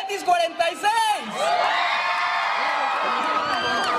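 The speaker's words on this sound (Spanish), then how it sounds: "A ver, el grito que se escuche del Cebetis 46." Students at a Cbtis 46 school event shout, whoop and cheer loudly together, with scattered yells at first that swell into a sustained roar of many voices.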